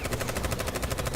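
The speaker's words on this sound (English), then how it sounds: "Gunfire rains down again," Rapid machine-gun fire in the video game Brown Dust 2 rattles in a fast, even burst of loud shots that runs through the whole brief moment.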